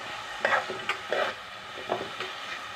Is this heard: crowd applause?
no